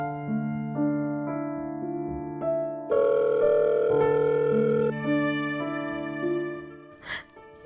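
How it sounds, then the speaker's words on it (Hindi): A phone rings unanswered, its melodic ringtone stepping through sustained tones for several seconds before cutting off, followed by a short breathy sigh. "विष्णु भी फोन उठो ना दी"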